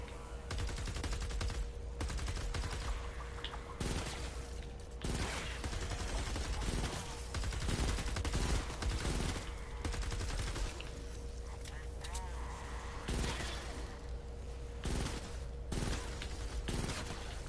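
Rapid bursts of automatic gunfire in a battle royale video game, dense repeated shots and volleys running almost continuously over constant background game noise.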